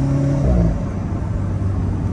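Alfa Romeo car accelerating on a winding road, heard from inside the cabin: a loud, steady engine drone with road rumble and a low tonal note that shifts as it pulls.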